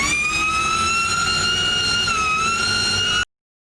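Ford Mustang Mach-E electric car's artificial exterior sound, a steady high whining tone like a dentist drill with stacked harmonic layers, holding and wavering slightly for about three seconds before cutting off abruptly into silence.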